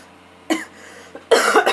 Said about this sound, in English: Perfectly timed cough.